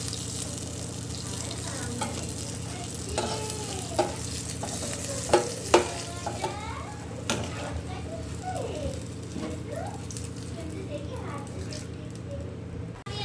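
Pea kachori puffing up while deep-frying in hot oil in a home kitchen, a steady bubbling sizzle with scattered scraping clicks and splashes from stirring, and a few voices talking faintly in the background.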